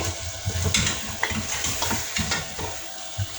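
Chicken feet frying in a pan with yogurt, stirred vigorously: repeated scraping strokes and clinks over a continuous sizzle, close and fairly loud.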